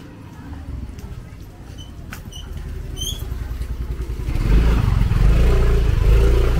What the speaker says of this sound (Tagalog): Buti nagkakasya pa yung motor dito.